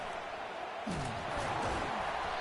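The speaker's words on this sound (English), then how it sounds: "This crowd bringing the energy and noise early." A packed stadium crowd at an Ohio State versus Nebraska college football game produces a steady, broad roar that swells slightly partway through, heard from within the stands at a loud, constant level.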